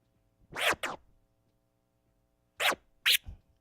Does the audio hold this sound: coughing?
no